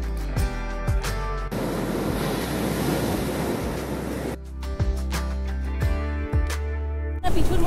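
Surf at Tajpur beach under a cloudy sky, the waves rolling in with a broad wash of roaring noise, mixed with buffeting wind on the microphone and some low rumbling.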